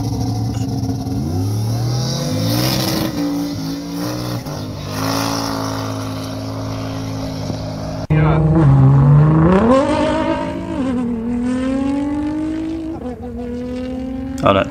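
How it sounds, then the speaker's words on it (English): An LS1 V8 swapped into a Ford drag car revs loudly and close at a drag-strip meeting, its harmonic engine note rising and falling through repeated blips, with people talking over it. "So this Ford's actually got an LS1 in it."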